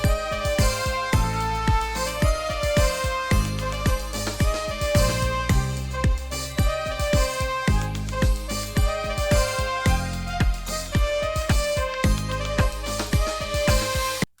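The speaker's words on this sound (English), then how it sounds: "now I'm just coming up with a flugel sound" Flugelhorn-like tone from the My Singing Monsters game plays over a busy, steady musical backing with rhythmic percussion, loud and continuous throughout, no voices.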